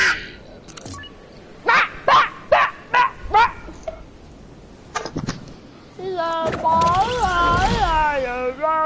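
A puppy lets out a rapid run of sharp, close barks and yips, then a longer stretch of whiny, wavering vocal sounds mixed with voices.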